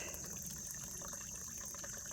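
A water bottle fills from an unprotected trail water source on the Appalachian Trail in northern Virginia, a steady close gushing and trickling of water that runs without pause and without voices.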